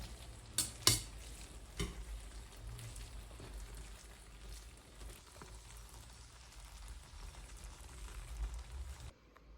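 Meatball pasta stirred in a pan at home, a steady soft sizzle with a few sharp utensil clatters near the start, then quieter scraping and bubbling until the sound cuts off.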